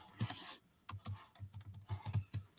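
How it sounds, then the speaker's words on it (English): Hard keystrokes clatter on a computer keyboard in quick irregular bursts, close and fairly quiet, with no voices present. "I better quit typing so hard"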